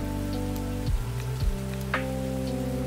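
Rain patter in the lofi video game Spirit City Lofi Sessions, a steady soft hiss of drops running continuously under layered sustained music tones, with a couple of brief low swoops.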